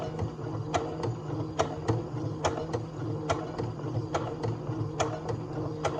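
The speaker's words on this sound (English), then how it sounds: "go down, back stitch a few times to meet the other stitch" Sewing machine back stitching through fabric, with a steady mechanical hum and regular sharp needle ticks repeating throughout, close and clear with no talk.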